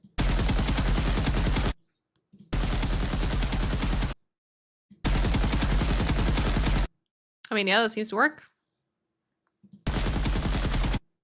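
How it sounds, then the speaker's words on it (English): Bursts of gunfire from an Unreal Engine video game, several dense rapid-fire volleys each lasting about two seconds and separated by short gaps, loud and close, with a brief spoken line in between. "you know, gunshots"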